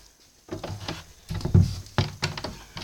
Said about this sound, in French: là je vais aller fermer la porte.